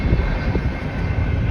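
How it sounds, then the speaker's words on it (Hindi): A broad, continuous roar of an airplane passing overhead, loud and steady with a low rumbling body and airy hiss, heard briefly outdoors at a hillside campsite. "ये प्लेन की आवाज़ क्यों आ रही है?"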